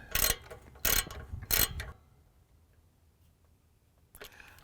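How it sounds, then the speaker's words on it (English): A ratchet wrench turns a bolt on a Dodge Ram transmission pan in three quick, loud bursts of close clicking, then falls quiet before a fainter fourth burst begins. "I'm gonna switch to a different ratchet so that I can get access to this back bolt."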